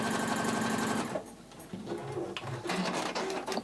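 A sewing machine stitches across the end of a cosmetic bag, a fast close whir for about a second, then a pause and a few shorter stitching bursts.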